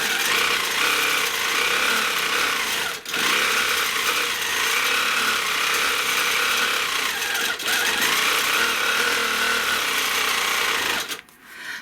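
A sewing machine quilting stitches around a stencil circle runs in a loud, steady, close mechanical whir, briefly pausing twice and stopping near the end.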